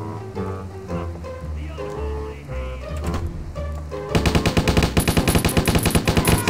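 Rapid automatic gunfire in the game Stubbs the Zombie, where the player shoots people. A fast, loud, regular burst of shots starts abruptly partway through and follows a stretch of quieter game music and ambience.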